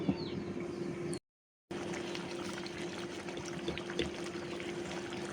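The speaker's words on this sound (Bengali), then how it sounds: "তরকারিটা টকবক করে অনেকক্ষণ ধরে ফুটতেছে" Prawn and pineapple curry simmering in a covered pot, a steady close bubbling and hissing with a faint hum underneath, broken by a brief moment of silence near the start.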